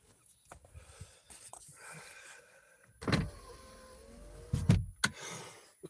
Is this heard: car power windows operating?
yes